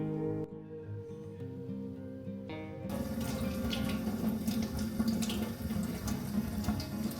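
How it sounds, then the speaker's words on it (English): Tap water pours over a plant to wash it, switching on after a brief quieter moment and then running as a steady, close splashing rush. "I was very careful not to damage it by washing."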